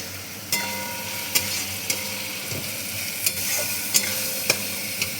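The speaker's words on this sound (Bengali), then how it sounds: "একটা বড় সাইজের টমেটো দিয়ে দিলাম, এটাকেও ভালো করে ফ্রাই করে নিই" Chopped tomato with turmeric sizzling and frying in oil with ginger-garlic paste, a steady close crackle broken by regular scrapes and taps of a spoon stirring the pan.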